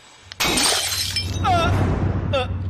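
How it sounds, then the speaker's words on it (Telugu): A light bulb bursts with a sharp crack, then a loud spray of shattering glass spreads into ringing fragments over about two seconds. Faint voice-like tones rise through the tail of the crash. "మన ఆఫీస్ లో బల్బ్ పేలినట్టుంది"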